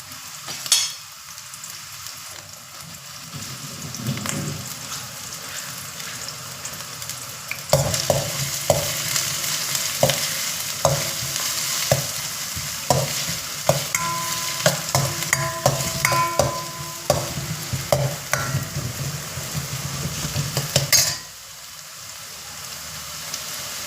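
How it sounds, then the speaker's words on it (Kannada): Two large chopped onions sizzle in hot oil for a prawn fry, with a spoon scraping and stirring the pan in rapid, repeated strokes over a steady crackle, close and clear, then the stirring stops. "ಎಣ್ಣೆ ಕಾಗಿರೋದಕ್ಕೆ ದೊಡ್ಡದಾಗಿ ಹೆಚ್ಚಿರುವಂಥ 2 ಈರುಳ್ಳಿನ ಹಾಕಿ ಫ್ರೈ ಮಾಡ್ಕೋಬೇಕು ಚೆನ್ನಾಗಿ"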